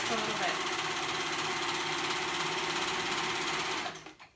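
A serger sews elastic onto children's pajama pants with a loud, steady mechanical whir of rapid stitching that runs continuously, then winds down and stops just before the end.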